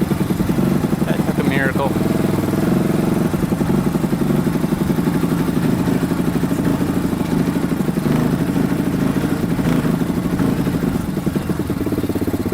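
A Honda ATV engine idles steadily nearby, a loud rattling putter throughout, while people talk over it.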